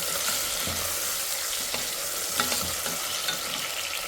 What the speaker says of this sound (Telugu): చూడండి, ముల్లంగి కూడా వేసేసి ఫ్రై చేసేస్తున్నాను ఆయిల్లో